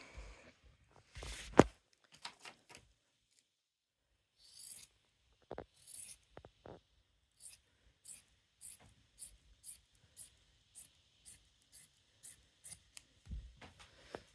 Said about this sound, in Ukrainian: Так, відрізаємо ось цю з одної сторони бахрому.